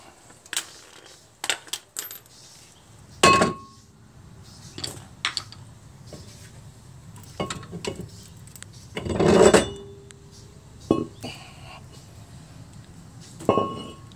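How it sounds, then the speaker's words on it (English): Front brake rotor being worked off the wheel hub of a 2015 Lexus IS250 F-Sport RWD: sharp metallic clanks and knocks at irregular intervals, with two heavier rattling impacts, close and fairly loud with quiet gaps between. "now let's pop the front rotor off"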